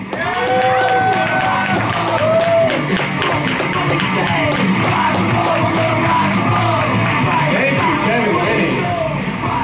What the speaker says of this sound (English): Please give a very loud round of applause for Josh Levesque